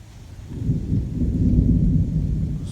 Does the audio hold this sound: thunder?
yes